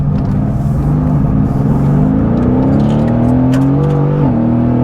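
A Mercedes-AMG GT S engine accelerates steadily, its rising harmonic drone climbing through the gears, loud and close from inside the cabin with no talking.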